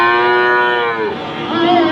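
A black crossbred calf moos in one long, drawn-out call that bends in pitch near the end, loud and close, with no talk over it.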